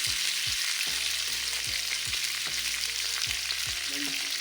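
Green chillies, mint and curry leaves sizzle steadily in hot oil, a dense crackling fry with repeated low thumps and scrapes of stirring throughout, close and loud, with no voices.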